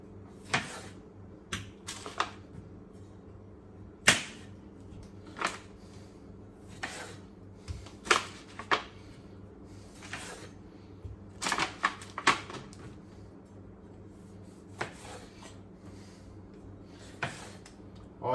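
Small vegetables being halved with a knife for a pasta dish, a steady series of sharp, separate chops and taps on a cutting board, close and crisp, with no one talking.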